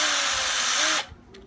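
A drill with a 1/2 inch bit bores a hole through a Yamaha F-325 acoustic guitar, a loud steady whine that stops abruptly after one second, followed by faint handling clicks.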